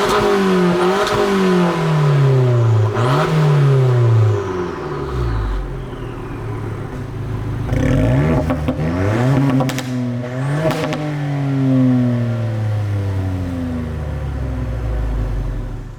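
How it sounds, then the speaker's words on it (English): A Ford Fiesta ST with a Miltec exhaust and an Abarth 595 with a Monza exhaust rev in turn, loud close engine notes rising and falling in repeated blips over about sixteen seconds, with pops and a steady rumble between revs. "seeing as I've got a Fiesta ST with a Miltec and an Abarth with a Monza, it seems a shame not to have a rev off"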